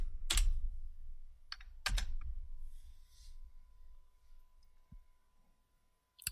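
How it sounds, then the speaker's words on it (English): Typing on a computer keyboard, a few sharp key clicks and taps spread across several seconds, with quiet stretches between them and no voice. "So I'm going to just type drunk."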